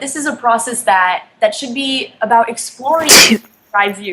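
A single sharp sneeze bursts out in the middle of a podcast-style conversation about empowering young girls, loud and close, with clear talk before and after it.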